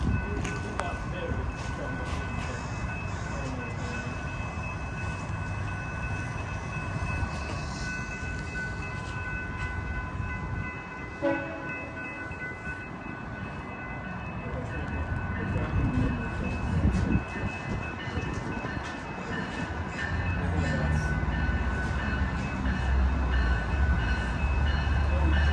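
Sound Transit Sounder commuter train pulling into Auburn station in Washington from Tacoma, a steady broad rumble of rail cars and wheels that swells louder toward the end, with people talking nearby.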